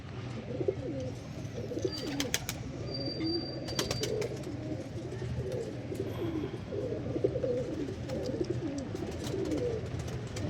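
Pigeons coo in a continuous low, throaty chorus, with scattered sharp chirps and clicks on top, close and steady throughout.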